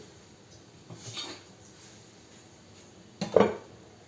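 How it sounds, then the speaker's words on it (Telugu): A lid set onto a pot of simmering lentil curry gives a couple of soft clinks and one sharper, louder metallic clatter near the end, with no voices. "మూత పెట్టేద్దాం దీనికి"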